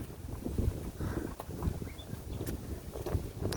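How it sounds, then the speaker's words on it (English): A horse walks uphill on a trail ride, its hoof falls soft and irregular under wind buffeting the microphone, with occasional creaks and rustles close by. "The horse is taking me up this hill."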